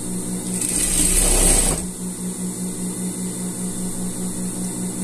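A sewing machine joins sweater seams and ribbing in one loud, steady whirring run of about a second. It then stops, leaving a low mains hum underneath.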